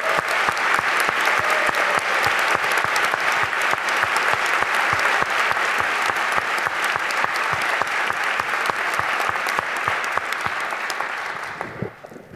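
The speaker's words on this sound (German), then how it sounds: "bitte auch um einen Applaus" Sustained applause from a large audience, dense steady clapping for several seconds that gradually fades out at the end.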